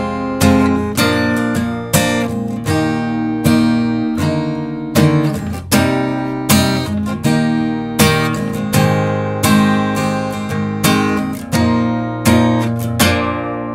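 Steady acoustic guitar strumming works slowly through the third line of the chorus of a song, close and fairly loud, with regular chord strokes and changes, and no voices.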